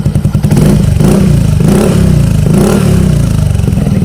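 A Yamaha Mio Gravis 125 scooter fitted with a Tri-Oval Akrapovic full-system exhaust with the silencer installed, revving loud and close: a few quick throttle blips, then a sustained pulsing, throbbing rev with no talking.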